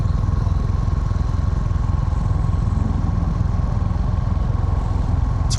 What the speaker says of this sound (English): The engine is gear-driven camshafts, and it's a different sound.